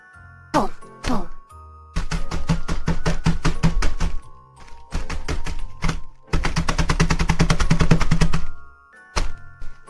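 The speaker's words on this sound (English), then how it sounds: "we have to pound out the Oreos. The Oreos that I have in this delightful plastic bag." Oreo cookies in a plastic bag being pounded in rapid bursts of sharp thuds and crackles, separated by short pauses, close and fairly loud.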